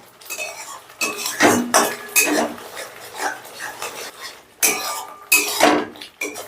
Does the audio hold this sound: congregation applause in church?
no